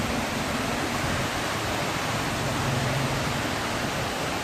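Heavy rain downpour, a dense, steady roar of falling water with no breaks, loud and close throughout.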